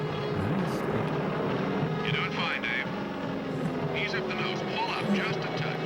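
In a film scene, an airplane comes in to land on a runway, its engine making a steady, loud drone that runs the whole way through. Voices speak briefly over it.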